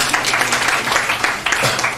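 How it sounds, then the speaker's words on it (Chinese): A conference-hall audience at COSCUP 2019, an open-source tech event, breaks into brief applause, a short burst of many hands clapping in rough unison at moderate distance. "应该给自己一个掌声"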